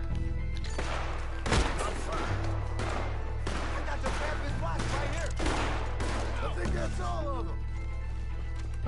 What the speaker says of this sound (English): There's somebody shooting at me!